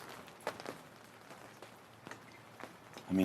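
Cold rain patters faintly and steadily, with scattered drops striking a surface and a brief louder rustle at the end.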